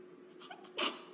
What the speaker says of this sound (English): Blackpink members sneezing.